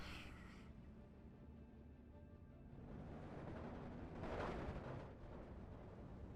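Sherman tank cannon firing in the WWII strategy game Steel Division 2, a deep explosive boom with a rumbling tail, part of continuous battlefield noise with another loud blast swelling near the end.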